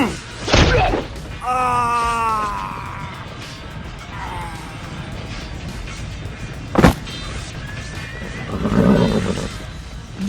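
A horse whinnies with a long, shaky neigh, followed by a sharp thud and some rustling, with a snort near the end.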